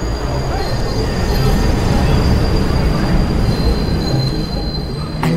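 A Metro North commuter train rolls loudly and steadily along the track, its wheels squealing in a sustained metallic whine over a constant rumbling roar.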